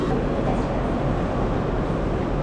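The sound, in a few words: train to Nagasaki, Japan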